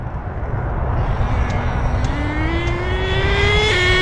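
An HPI Savage Classic nitro RC truck makes a speed pass, its small engine whining and climbing steadily in pitch as it draws closer and grows louder.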